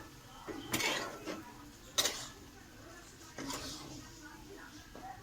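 Fish is stirred in a pan with a utensil, giving faint scraping and a few sharp metallic clinks against the pan, quiet and intermittent.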